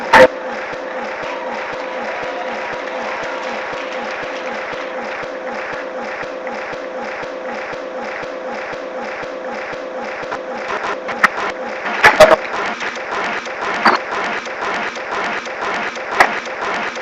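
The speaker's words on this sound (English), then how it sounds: "continue to clap your hands for them" Sustained applause from an audience at an annual mentorship and career development talk, steady dense clapping throughout with a few sharper louder claps and a brief swell near the end.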